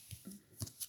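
Oracle cards being cut from a deck: a few soft, brief papery slaps and rustles close by, quiet and spaced over under a second, with no talking.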